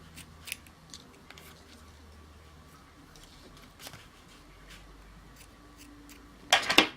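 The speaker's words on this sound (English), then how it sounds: "we'll snip some of this off" Scissors trim off excess ribbon in a craft project, a few faint snips scattered through a quiet room before a sharper, louder cluster of cutting clicks at the end.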